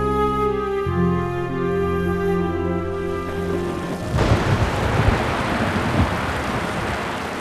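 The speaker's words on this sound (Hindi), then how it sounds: "मौसम बहुत तूफानी हो रहा है" Heavy thunderstorm noise with dense rain and deep rumbling thunder surges, joined partway through by a tonal musical background that fades out; no voices.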